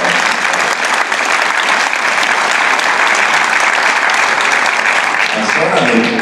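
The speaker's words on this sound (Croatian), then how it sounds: "Vjera, veliki aplauz za Saru Vjera." Sustained, dense applause from a large audience at a public panel talk fills the whole stretch at a steady, loud level, with no break in the clapping.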